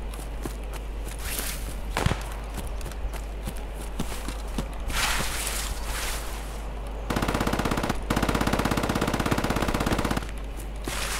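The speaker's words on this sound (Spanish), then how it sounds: "Es un arma pequeñita, una ametralladora pequeña de bajo calibre, pero lo tienen en automático." A small low-calibre machine gun firing on full auto in Escape From Tarkov, rapid crackling bursts at a distance mixed with footsteps, then a long sustained rattling burst near the end.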